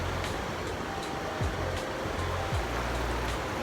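Floodwater rushes out of a burst village pond after rain, a loud, continuous churning roar close by with a couple of brief swells and no voices.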